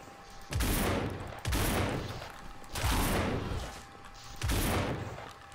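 Four heavy, booming Winchester rifle shots in the video game No More Room In Hell, spaced roughly a second apart, each with a sharp onset and a long rolling echo tail.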